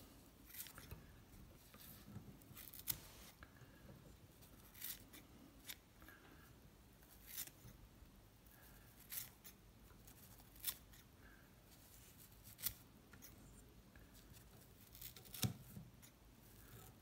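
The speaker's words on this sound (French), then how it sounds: "on prend carrément des grands ciseaux, ce qui va faire une coupe un peu plus droite" Large scissors snipping fly-tying material while dressing a reservoir fishing fly, faint crisp cuts recurring at irregular intervals of a second or two over quiet handling noise, no talk.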